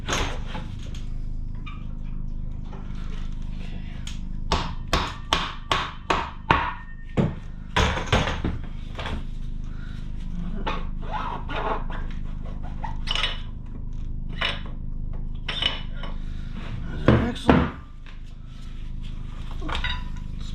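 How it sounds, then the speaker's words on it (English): Metal tools tap, clank and knock against the rear wheel axle of a 2015 Harley-Davidson Street Rod as it is worked loose, with sharp irregular strikes clustered early and a few louder knocks near the end. "Now we're ready to take our axle out."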